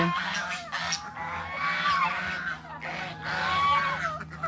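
A turkey gobbles and calls in loud, continuous warbling bursts close by, with other poultry honking around it.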